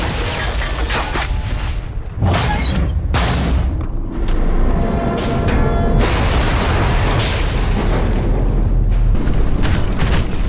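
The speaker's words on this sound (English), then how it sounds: "When its machine guns, light cannons, heavy cannon, and rocket pods are all fired simultaneously, it does an incredible amount of damage in a single burst." A spider-like Usonia mech in Iron Harvest fires machine guns, light and heavy cannons and rocket pods all at once: a dense, continuous barrage of booming blasts and rattling gunfire, loud and close for the whole stretch.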